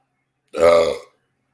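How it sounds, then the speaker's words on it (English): A single loud, close burp rises out of silence and lasts about half a second, with nothing else around it. "Oh, much better after those burps."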